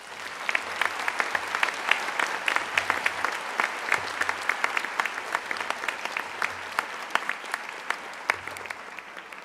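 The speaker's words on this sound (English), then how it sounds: "Give yourselves a rousing round of applause for that." A graduation convocation audience applauds, a dense, steady wash of many hands clapping from a large crowd that holds for the full stretch without voices.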